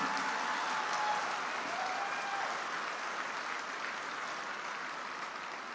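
Audience applause at a motivational talk: dense, steady clapping from a large crowd, loud and sustained for the whole stretch, easing slightly toward the end.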